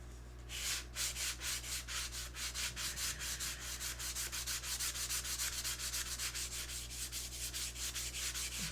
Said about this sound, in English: I bet I could sand on this another 2 weeks.